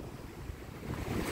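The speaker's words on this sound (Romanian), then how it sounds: "Valuri, valuri, valuri, nu mă mai satur de valuri." Ocean waves wash onto the shore on a seaside morning, a soft continuous rumble and hiss with some wind noise, swelling slightly toward the end.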